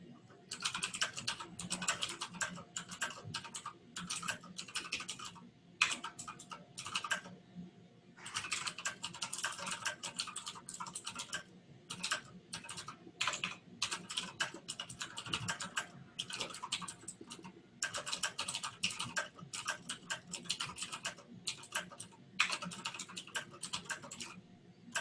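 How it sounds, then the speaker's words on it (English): Typing on a mechanical keyboard during an online meeting, bursts of crisp, rapid keystrokes broken by short pauses, heard close and fairly quiet against a faint background hum. "now we're all watching somebody in these super bling shades type on a mechanical keyboard."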